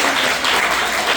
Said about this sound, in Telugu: క్లాప్ చేద్దామా?